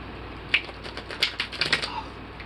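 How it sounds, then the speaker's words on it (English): A new tarot card deck being shuffled, producing a few faint, quick papery riffles and flicks in short bursts, heard close up with no talking. "So this deck's a little bit newer. It's a little bit harder to shuffle."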